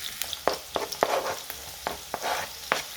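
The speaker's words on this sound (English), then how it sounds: "Now I'm just stir frying these for a minute, and I'm going to add garlic." Onions and carrot stir frying in hot oil in a pan, a soft continuous sizzle punctuated by sharp clicks and scrapes of the spatula stirring every few tenths of a second.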